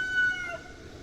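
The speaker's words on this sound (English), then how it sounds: "roosters are calling for food." A rooster crows briefly in a single short call, close and fairly clear, over a faint low background rumble with no talk.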